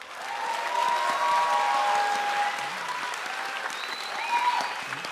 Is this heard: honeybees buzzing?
no